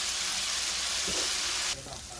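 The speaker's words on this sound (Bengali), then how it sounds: "করলা ভাজির মধ্যে পেঁয়াজ মোটা মোটা দিতে হয়, আর করলা ভাজির সঙ্গে পেঁয়াজটা দিয়ে দিতে হয়।" Bitter gourd fries with thick-cut onions and whole garlic cloves, a loud, steady, close sizzle that runs without a break. Partway through it drops to a quieter hiss, with a brief stir or clatter, and no one speaks.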